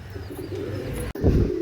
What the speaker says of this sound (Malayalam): നമുക്കിനി പ്രാവുകളെ ഒന്ന് പരിചയപ്പെടാം